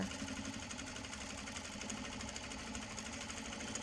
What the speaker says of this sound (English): Now I am going to throw one more stitch into the webbing here